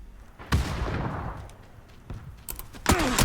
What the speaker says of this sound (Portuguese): Só escuto os tiros e não acho eles.